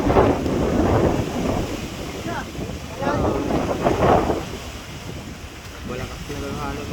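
Strong wind and big waves batter a large boat at sea, with gusting roar and surging water rising and falling under shouting voices.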